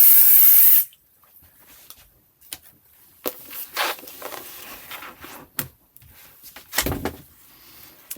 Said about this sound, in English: use my 505 and then spray over this half. Just a light spray.